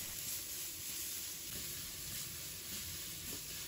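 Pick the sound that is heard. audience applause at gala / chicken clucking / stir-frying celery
stir-frying celery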